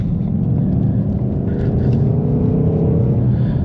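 A modified Ford Mustang Mach 1 with a manual gearbox and 5.0L V8 accelerates, its deep engine drone rising steadily in pitch with a low rumble heard from inside the car.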